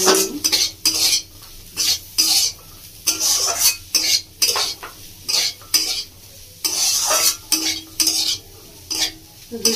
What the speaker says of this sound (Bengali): এবার দিয়ে দেবো রসুনের কুচি, সাথে দিয়ে দিচ্ছি 1/2 চামচ মতো গোলমরিচের গুঁড়ো। ভালো করে নাড়িয়ে নেব।